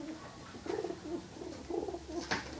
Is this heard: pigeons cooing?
yes